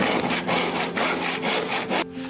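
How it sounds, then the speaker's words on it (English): A hand saw cuts the corners off a block of wood being shaped into a round pulley, giving loud, steady back-and-forth rasping strokes about twice a second that stop abruptly near the end. "Then I can put it on the top again and then use this distance to cut my corners off"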